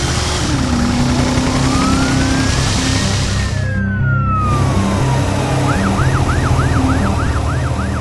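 A police car siren wails, rising and falling, then switches to a rapid yelping pattern, loud and close over a low engine rumble.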